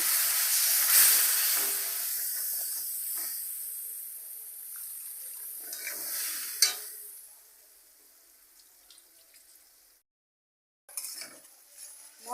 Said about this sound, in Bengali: এবার একটু জল দেব দিয়ে মশলাটা কষাই করবো